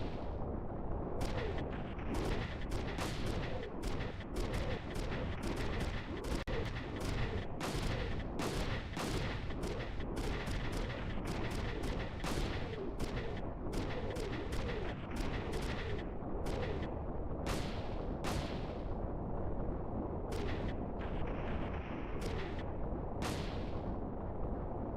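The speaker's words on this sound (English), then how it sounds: "starts shooting at anything that moves." Constant gunfire from Front Mission 3, the mech strategy game, with dense bursts of rapid shots and sharp cracks over a steady roar of explosions, running without a break and without any voices.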